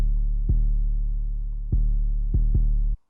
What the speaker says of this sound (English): For the 808s you can use the spins 808.